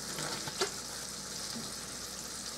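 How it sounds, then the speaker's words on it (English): Salisbury steak patties frying in a pan, a steady faint sizzle and crackle that holds evenly throughout with one brief louder pop. "while those are frying"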